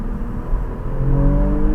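A car accelerating hard in second gear on an open road, its engine a steady low drone from inside the cabin with rising harmonic tones as revs climb toward the end.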